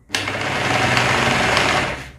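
Rotary hammer drill running in drill-plus-hammer mode starts abruptly and gives a rapid, buzzing hammering rattle at close range for about two seconds before cutting off, with no talk.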